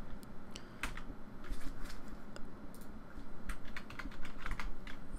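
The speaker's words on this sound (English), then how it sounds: "head over to the internet, and we type into the search bar" Computer keyboard typing into a web browser search bar, a steady run of light, close clicking keystrokes with brief pauses, heard alone without speech.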